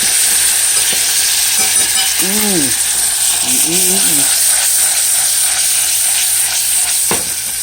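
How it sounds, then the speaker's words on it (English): Lobster pieces heating in a hot pan give a steady, close sizzle throughout, with a brief mechanical creak and a couple of short tonal squeaks partway through. "So I'm dropping that lobster in there for a minute. Just to heat them."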